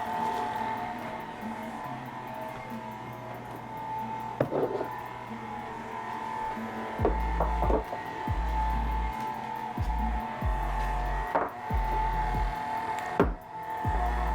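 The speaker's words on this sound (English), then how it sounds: "now we'll turn the stand mixer on low and let that start incorporating" A stand mixer on low speed, mixing ingredients for Parmesan garlic bread, gives a steady close mechanical hum with a few heavier rhythmic thumps midway. No one speaks.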